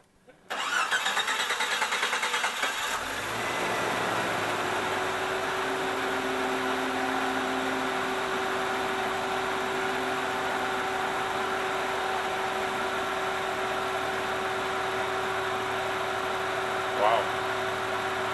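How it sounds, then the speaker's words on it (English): A 1993 Jeep Cherokee 4.0 cranks for a few seconds and fires up, then settles into a steady, loud idle with a constant engine drone after a fuel pump repair, with no talking over it. "I'm going to start it up and let's see how it goes."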